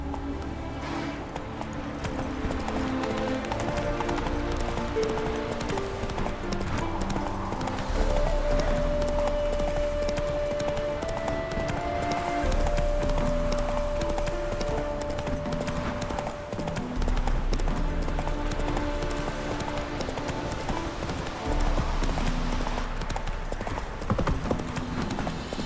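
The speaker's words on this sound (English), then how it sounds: "Run, Roach." Galloping horse hooves in The Witcher 3: Wild Hunt, a continuous rhythmic clip-clop with an occasional whinny, set under game music and ambience.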